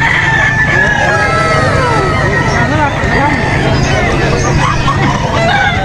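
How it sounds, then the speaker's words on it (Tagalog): Many chickens cluck and roosters crow repeatedly at a busy pet market in Angeles City, Philippines, with a crowd's background chatter mixed in. "Mga manok."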